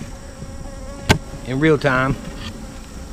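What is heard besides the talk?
honey bees buzzing around hive during queen cell split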